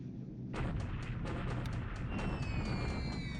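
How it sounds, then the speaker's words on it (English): Port bombing raid in War in the Pacific: after a quieter opening, a rapid run of loud, closely spaced explosive thuds and blasts over a continuous rumbling roar, with a high tonal whine sliding in near the end. "This is bombing the port."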